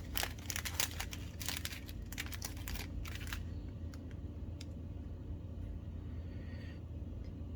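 A plastic package is cut open, with a burst of sharp crinkling, snipping and tearing up close in the first few seconds that fades into quieter, sparse rustles over a low background hum.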